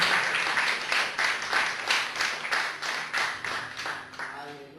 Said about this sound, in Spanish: Denle un fuerte aplauso, porque si está entendiendo, tiene que aplaudir